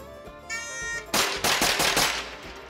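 Rapid gunshots ring out at an outdoor shooting range, a close, loud string of about five sharp cracks with echoing tails, following a short electronic tone.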